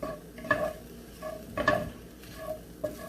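Vegan sausage crumbles sizzle in a pan while a utensil scrapes and stirs them in several distinct strokes against a steady low frying hiss.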